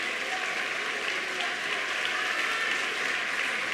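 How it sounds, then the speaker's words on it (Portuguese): Church congregation claps for Jesus in a continuous, even wash of applause, soft and somewhat distant, with a faint sustained tone underneath and no voices standing out. "Irmãos, você pode dar uma linda salva de palmas para Jesus"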